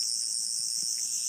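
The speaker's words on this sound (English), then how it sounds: "while a low buzzing sound can be heard." River Song's sonic screwdriver toy gives off a steady, unbroken electronic buzz, held at an even level from start to finish with no voices.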